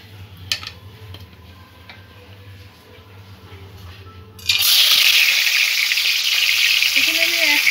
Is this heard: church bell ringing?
no